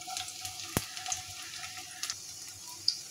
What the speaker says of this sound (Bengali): তো রসুনটাকে আমি ব্রাউন কালার করে ভেজে নিব।